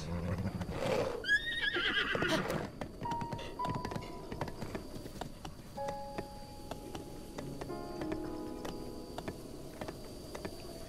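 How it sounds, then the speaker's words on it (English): A horse lets out a loud, close whinny near the start, followed by a series of irregular hoof clip-clops and light knocks that continue to the end. "I got a horse!"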